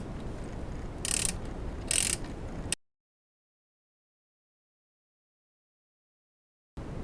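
A ratchet with a 1-inch socket tightens the high-pressure inlet fitting on a power steering pump. Two short, close clicking bursts sound over steady background noise, then the sound cuts out to silence.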